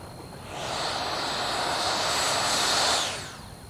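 An E-Flite Viper RC jet lands and uses thrust reverse, its turbine whine rising over about half a second, holding loud and steady with a high tone, then dropping away after roughly three seconds.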